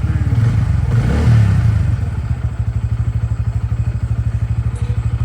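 A new motorcycle's engine idles close by with a steady, rapid thumping pulse that settles into an even rhythm after a brief rougher opening, with no one talking.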